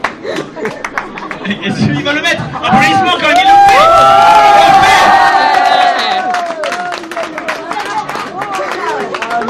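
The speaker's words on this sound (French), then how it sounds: "Applaudissements quand il le fait." A live crowd at a Street Fighter IV tournament final in Japan bursts into loud cheering, shouts and applause that swell and hold, with chatter mixed throughout.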